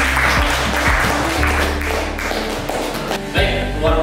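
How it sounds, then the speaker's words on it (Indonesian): A classroom of students applauds a classmate with a burst of dense, close clapping and taps that fades midway, then flares again near the end. "Kita beri aplaus untuk Pak"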